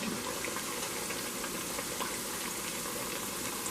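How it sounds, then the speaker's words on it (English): Green plantain slices frying in hot oil in a pot for Colombian patacones, a steady close bubbling sizzle that holds evenly throughout with no talking. "Now I'm going to put that back in the pot and finish frying it."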